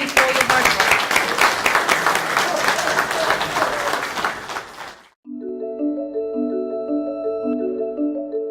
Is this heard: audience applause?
yes